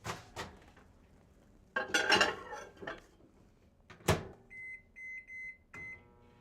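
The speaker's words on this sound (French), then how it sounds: "combien de temps qu'on les met au four micro-ondes?" Kitchen microwave oven cooking potatoes: clattering of dishes and a door or drawer handled nearby, a sharp clunk, then a short series of electronic beeps from the microwave, with no voices.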